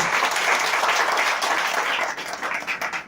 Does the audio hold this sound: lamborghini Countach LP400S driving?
no